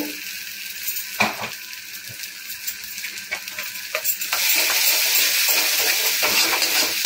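Taro in a pan with turmeric and cumin powder being stirred, with scattered scraping and clinking knocks that give way to a louder steady sizzle in the second half, heard up close.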